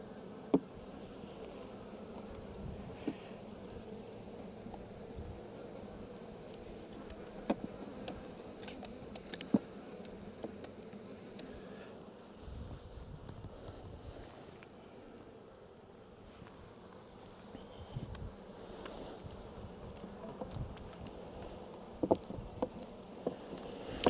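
Bees from a split hive buzz steadily and close by, the droning hum continuous across the whole stretch with occasional louder passes as individual insects fly near, no voices present.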